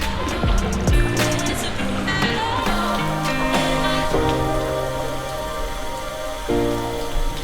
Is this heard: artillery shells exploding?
no